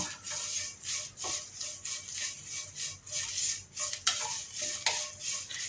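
Curry leaves roast dry in a pan until blackened, for a homemade hair dye. A spatula stirs them in a soft, steady rhythm of repeated scraping strokes, fairly quiet and without voices.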